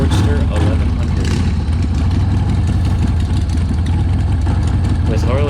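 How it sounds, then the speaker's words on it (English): A 1986 Harley Davidson Sportster 1100 idles while warming up, a loud, steady low rumbling engine with an uneven lumpy pulse, running close by without pause. "The first thing we are doing is warming up our bikes."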